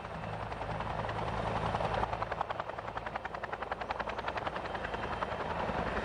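A helicopter's rotor thumps steadily throughout, a continuous rhythmic chopping drone at moderate level with no talk.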